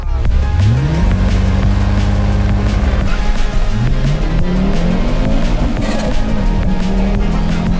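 Loud Audi S4/S6 engine revving hard through a launch, pitch climbing in gears as the clutch slips, with a whining tone sweeping above.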